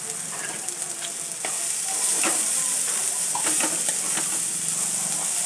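Fresh pigeon pea seeds hit a pan of roasted masala for kalavan and fry with a steady bright sizzle that swells louder as they settle, with occasional scraping stirs close by and no voices.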